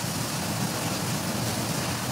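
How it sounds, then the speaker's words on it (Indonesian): Rain falls steadily outside, a continuous, even hiss of moderate loudness with no talk over it. "maaf suara ini bocor karena di sini lagi hujan"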